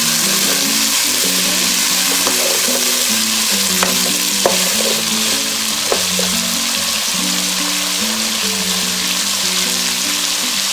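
Chickpeas with salt frying and stirred in a pan for chole, a steady loud sizzle with soft scraping strokes of a spoon throughout, no voices.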